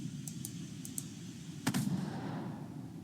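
A single sharp gunfire report from the hex-based wargame Second Front, followed by a short rumbling tail. It sits over a steady low background hum, with a few faint ticks earlier and no talking.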